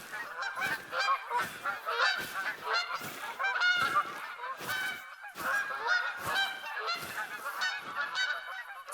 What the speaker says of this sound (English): White goose.